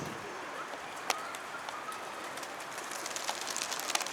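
Pigeons coo softly outdoors just after being released, with scattered wing flutters and faint bird calls over a hissing background; no one speaks.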